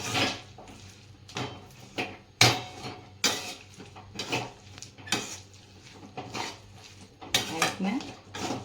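Hot peanut chikki mixture with cardamom powder being mixed in a pan, a quick uneven run of loud metal scrapes and clanks from the spoon against the pan, close and alone.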